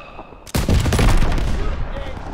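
Gunfire in Call of Duty: WWII bursts in suddenly after a short quiet lead-in, a loud, rapid fusillade of overlapping shots that holds at full strength to the end.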